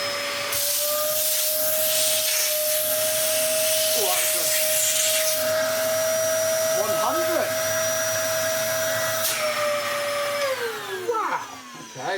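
A Dyson mini vacuum cleaner runs close up with its vent holes covered by a hand, giving a loud, steady whine that drops in pitch near the end, while a person talks over it.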